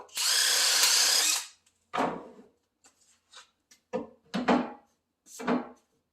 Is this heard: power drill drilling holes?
yes